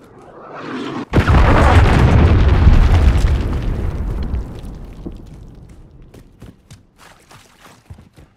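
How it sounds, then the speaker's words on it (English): A large cruise missile blast in Call of Duty: Modern Warfare II hits as one loud, sudden boom that rumbles on for several seconds and slowly fades, with faint footsteps and small pops after it. "Friendly cruise missile inbound."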